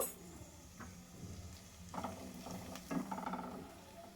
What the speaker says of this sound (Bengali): দিয়ে দিলাম কুচানো রসুন রসুনটাকে দিয়েও এক থেকে দেড় মিনিট ভেজে নেব